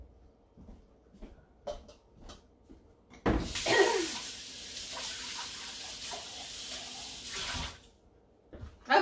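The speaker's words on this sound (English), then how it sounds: "I'm going to rinse this real quick" Water from a kitchen tap runs steadily over a blender container being rinsed, a loud continuous gush of a few seconds that starts abruptly and stops, framed by soft handling knocks.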